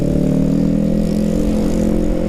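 Yamaha MT-03 motorcycle fitted with a new free-flow exhaust, idling or running steadily with a loud, close, throaty drone and a fast pulsing burble, alone with no speech.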